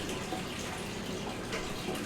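Water and coffee run out of a tiny hole in an insulated cup as a continuous splashing, trickling rush, close and steady, with no voices.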